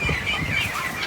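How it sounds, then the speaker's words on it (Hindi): Chickens, roosters and hens on an open farm make faint, brief clucks and rustling over a steady background, with soft calls scattered through the moment. "और पीछे पीछे आ गए हैं हमारे पास मुर्गे और मुर्गियाँ।"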